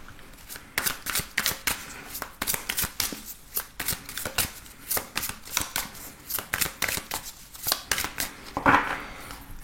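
Tarot cards being shuffled by hand, a close, rapid series of crisp riffling flicks and slaps in quick bursts throughout, with no talk over them.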